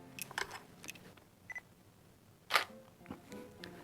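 Several camera shutter clicks fire in quick, irregular succession with a speedlight flash setup, soft and close, including a crisper, louder release partway through.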